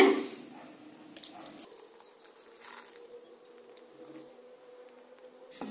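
Hot jaggery syrup for ragi laddu poured through a strainer into ragi flour, a soft, steady trickle with faint drips and a quiet patter, close by and without talk.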